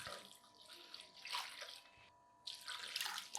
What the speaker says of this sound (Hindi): इसके अंदर मैं अब 3 गिलास पानी शामिल करूंगा।